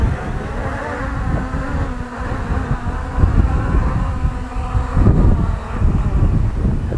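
An MJX Bugs 5W GPS drone hovers in wind and auto-lands, its rotors giving a steady close buzzing whine over rumbling wind noise on the microphone, swelling slightly toward the end as it settles down.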